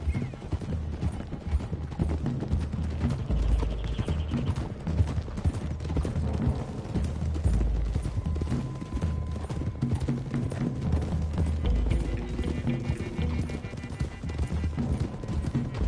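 Horses ridden across open country in Red Dead Redemption 2, steady clip-clop of several sets of hooves with an occasional whinny, underneath game music and ambient sound.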